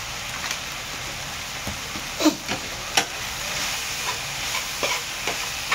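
Schezwan fried rice stir-fried in a hot pan, with a steady sizzle and scattered sharp scrapes and clatters of the spatula tossing the rice, close and fairly loud, no talking.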